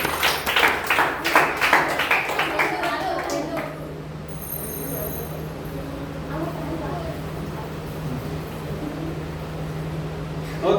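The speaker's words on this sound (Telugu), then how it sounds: "వెరీ గుడ్, గట్టి చప్పట్లు" A group gives loud, fast clapping for a few seconds after a correct answer, the claps close and dense before fading into a quieter room with faint talk.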